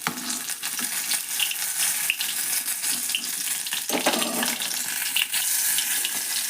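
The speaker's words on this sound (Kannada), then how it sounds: "ಟೊಮೆಟೊ ಹುರ್ಯಾಕ್ತೀನಲ್ರಿ" Tomatoes sizzle and fry steadily in a hot pan for a tomato chutney, a continuous close crackle with no talking over it.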